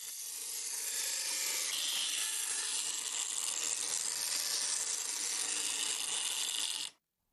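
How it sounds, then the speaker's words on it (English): A grinder shapes the steel blade of a lacquer-restoration tool, giving a loud, continuous high grinding rasp that holds steady for about seven seconds and then cuts off abruptly. "The grinder is used to adjust thickness and width,"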